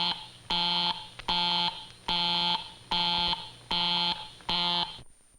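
Telephone busy signal, a harsh buzzing tone in six even on-off pulses at a steady rhythm, loud and clear, ending abruptly.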